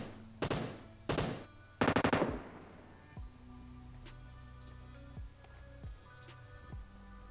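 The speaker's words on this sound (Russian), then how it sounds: "А вот первые выстрелы" Several loud gunshots in the PUBG Mobile Metro Royale mode: a single shot, another, then a rapid burst of about four, followed by quieter distant single shots and game ambience.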